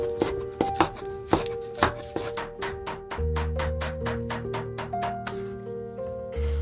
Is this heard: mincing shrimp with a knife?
yes